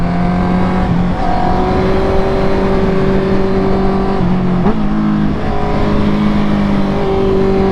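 A Honda CB650R motorcycle fitted with a Black Widow exhaust drones loudly and close on a North Pennines hill road, its engine pitch shifting through gear changes and throttle, without talk.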